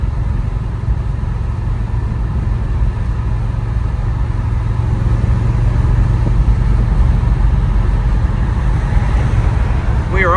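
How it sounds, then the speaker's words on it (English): A 1967 Chevrolet Chevelle SS 396 V8 drives along, its engine giving a steady, continuous low rumble with road noise that holds even and loud throughout. "Just an excellent running,"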